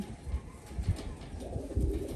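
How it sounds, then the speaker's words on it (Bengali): Two older female pigeons in a cage coo nearby with soft, low, throaty rumbles that swell and fade in short pulses, one after another. "আমার বাসার সব থেকে ওল্ড জেনারেশনের দুইটা মাদি কবুতর"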